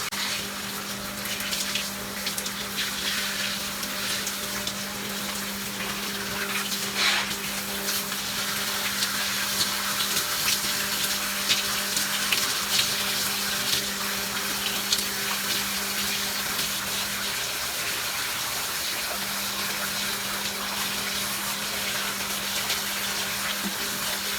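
Steady running water from a shower or tap pours continuously while hair is rinsed after conditioner, a close, even broadband hiss that holds for the whole stretch with no talking.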